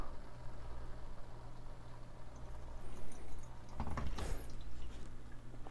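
Water poured into a Fellow Stagg X coffee brewer fitted with flat-bottom paper, a quiet trickle beneath a low background hum that rises into a brief splashing pour near the end.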